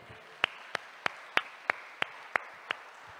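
Eight sharp, evenly spaced claps ring out in a church service, faint and roomy against a quiet background, as if from one or a few people rather than a full congregation.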